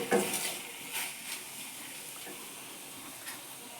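Lightly fried fish and potatoes in curry with tomato are stirred in a pan: a quiet, soft sizzle with a few brief scrapes and clinks of a spoon against the pan, no talking.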